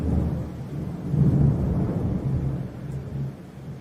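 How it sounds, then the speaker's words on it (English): Thunder from a storm rumbles low and steady, swelling in a couple of soft, deep rolls with a faint hiss of rain underneath, no voices present. "You can figure out how far away a storm is by timing the difference between when you see the flash and when you hear the thunder."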